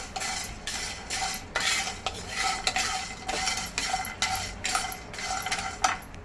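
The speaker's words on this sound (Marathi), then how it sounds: "ही बडी वेलची म्हणजे मसाला वेलची आपली हे आपण आता एकत्र भाजूया" Black cardamom and whole spices dry roasting in a pan for a traditional Malvani masala, with steady scraping and rattling stirs, metal utensil clinks and a light crackle, close and continuous with no talking.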